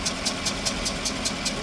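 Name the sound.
pickup truck engine with exhaust leak noise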